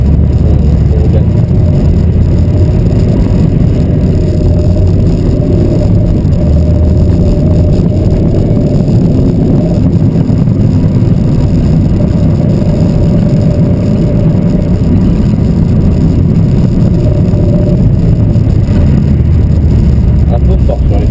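Mitsubishi Lancer on an ice circuit, its engine droning loud and steady under hard throttle for about twenty seconds, heard close from inside the car.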